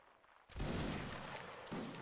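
Musket volley fire from a line of soldiers in a Napoleonic Wars battle game: a sudden loud crackling fusillade of many shots, sustained briefly, with a second burst of fire following close behind.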